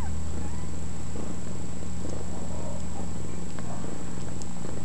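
A calico sphynx cat purrs steadily and close for a few seconds, a low continuous rumble with faint background noise and no talking.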